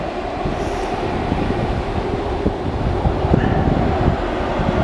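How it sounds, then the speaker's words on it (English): A passenger train rumbles past at moderate distance along an English coastal embankment between North Gare and Crimdon Dene, a steady low roar of rolling wheels with some wind buffeting the microphone. "I see a train, Grand Central train."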